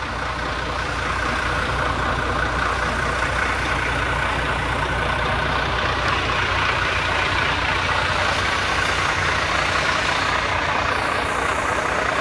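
A Volvo 500 truck idling, a steady, loud, low diesel rumble close by with an even, unchanging rhythm throughout.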